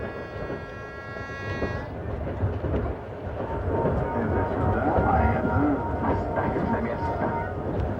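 A Trans-Siberian Railway train rolls along the rails with a steady low rumble and rhythmic clatter, opening with a brief tonal horn-like note.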